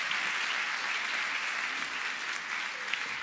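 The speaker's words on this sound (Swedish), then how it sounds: "Lisa, så här låter 600 personer som applåderar för dig" About 600 people in a theatre audience at a live stage show applaud, producing a dense, even wash of clapping that holds steady from start to finish.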